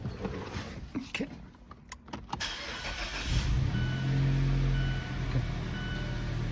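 A 2014 Mazda 3 with a 2-litre engine, just fitted with new fuel injectors, cranks with a few short clicks, catches, and settles into a steady, even idle, heard up close.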